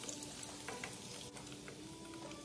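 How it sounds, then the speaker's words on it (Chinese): Pork belly pieces deep fry in hot oil until golden, giving a soft, continuous sizzle and crackle with no voices over it. "一直油炸至金黄色后即可离火"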